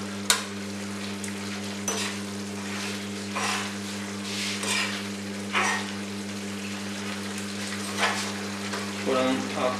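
A spoon slowly stirs paneer mushroom masala gravy in a pan, soft scraping strokes recurring every second or two over a steady sizzle and a constant low hum, close and moderately quiet.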